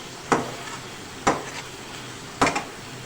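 Garlic and ginger frying in a pan for a dhaba-style lentil dish, a low sizzle beneath three distinct utensil knocks against the pan, close and with no speech.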